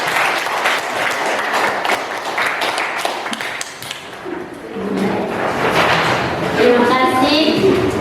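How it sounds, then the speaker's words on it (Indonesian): A classroom full of people applauding a group steadily for several seconds, dense clapping that fades slightly midway and picks back up, with voices underneath. "mari kita beri tepuk tangan."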